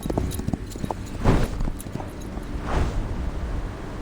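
Horse hooves clop steadily as a rider moves forward in the video game Reverse 1999, a continuous rhythmic stream of hoof beats with occasional heavier thuds, moderately loud and without speech.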